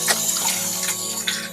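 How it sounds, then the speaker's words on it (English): Running tap water pours steadily over hands being washed at a kitchen sink while cooking fish cakes: a close, continuous hiss with small splashing surges and no talking. "So the first thing I'm going to do is wash my hands."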